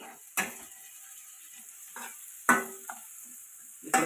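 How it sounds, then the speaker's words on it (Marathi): Onion fries in a pan on a gas stove, giving a soft, steady sizzle broken by a few sharp scraping stirs and clinks of the spatula against the pan. "कांदा आपला चालू आहे काय सिगडी तापण आहे म्हणजे गॅस तर फुल आहे"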